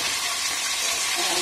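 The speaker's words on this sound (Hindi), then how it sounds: "तेल गर्म हो चुका है, इसमें हम आलू डाल देंगे।" Potatoes sizzling in hot oil in a pan, a bright continuous crackle and hiss heard briefly and steadily, with no talking.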